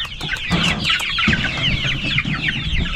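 Several chickens cluck and chatter close by, a busy overlapping flock sound with short repeated calls and no talking.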